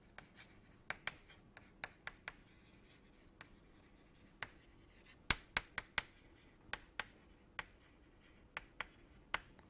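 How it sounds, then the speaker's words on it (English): Pen or chalk writing on a board during an engineering lecture on electric thrusters, heard as a string of short, sharp taps and scratches in irregular rhythm over a quiet room, with no talking. "Maybe I will write it here."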